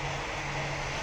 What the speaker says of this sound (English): Plane incoming.